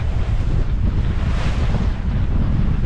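Strong wind at sea buffets the microphone during solo sailing on a small boat heading toward Moreton Bay, a loud, steady roar with a low rumble of waves and hull beneath it and no voices.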